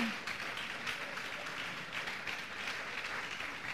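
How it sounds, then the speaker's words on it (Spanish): Steady applause from a church congregation during a sermon fills the whole stretch, dense and continuous clapping at an even level. "Si quiere dar un aplauso a él."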